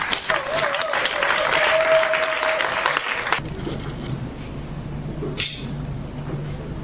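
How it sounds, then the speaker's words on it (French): An audience claps loudly for about three seconds, then the applause stops abruptly, leaving quiet room tone and a brief sharp noise. "Merci beaucoup et avec tous vos applaudissements."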